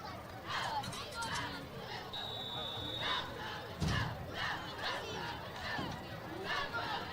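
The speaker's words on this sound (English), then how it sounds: "Isn't it great that you can hear the cheer team loud and clear?" A cheer team yells chants at a high-school football game between the Mills U Comets and Forrest City Mustangs, rhythmic shouted bursts over crowd noise, heard from a distance with a brief whistle tone.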